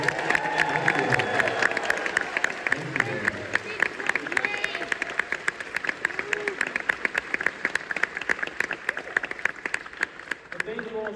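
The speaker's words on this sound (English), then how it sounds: "give them a round of applause" An audience at an outdoor meet-up applauds and cheers, a dense crackle of clapping sustained for the whole stretch, with crowd chatter and a nearby voice rising through it.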